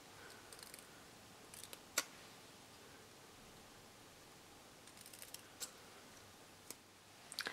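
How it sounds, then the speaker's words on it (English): Sizzix scissors trim patterned cardstock in a few sharp, isolated snips and clicks, close and fairly quiet, scattered irregularly over a soft background hush. "Using your Sizzix scissors, simply trim the ends to make a banner shape."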